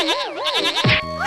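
A goat bleating, a short wavering cry close by, followed by a brief voice speaking.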